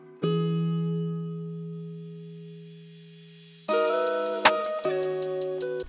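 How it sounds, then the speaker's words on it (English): In an FL Studio trap beat, a reversed crash cymbal swells up over a sustained synth chord, then cuts into the drop with crisp, rhythmic hi-hat ticks and melody. "So you got a nice little transition there with that crash reversed."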